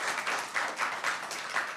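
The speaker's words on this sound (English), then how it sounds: "applause to our speaker" An audience applauds a speaker at the close of a talk session, a steady patter of many hands clapping with a mild pulsing rhythm, moderately close and without voices.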